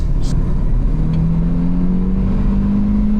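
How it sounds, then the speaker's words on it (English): A Nissan S14's engine running while driving, a steady close mid-pitched drone that rises slightly in pitch as it pulls, with no talking. "The car runs out pretty good once it's all warmed up."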